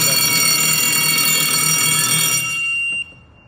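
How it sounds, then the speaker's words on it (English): A gas extinguishing release control panel sounds a loud, steady electronic alarm tone up close. The tone cuts off abruptly near the end, leaving quiet. "So until we don't press it like this, it will keep alarming."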